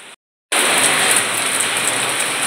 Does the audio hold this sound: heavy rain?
yes